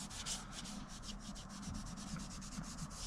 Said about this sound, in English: now we're giving it a quick wipe again with alcohol pad to take off all the dust